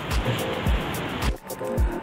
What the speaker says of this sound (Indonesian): Akhirnya kita nyampe di pantai.